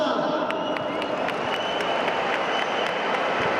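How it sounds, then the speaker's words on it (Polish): Large stadium crowd applauding and cheering at the National Stadium in Warsaw during a 2013 event, a dense continuous roar of clapping with occasional sharper claps, steady and loud throughout. "Proszę o brawa!"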